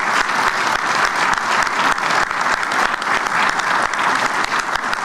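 A crowd at the grand opening of the O'Hare Terminal 5 extension gives loud, sustained applause, dense clapping filling the space evenly throughout.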